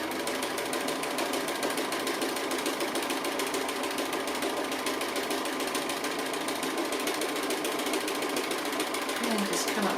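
Sewing machine stitching the final line across an appliqué piece, running steadily and close for the whole stretch without a break.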